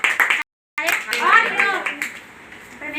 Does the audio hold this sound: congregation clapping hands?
yes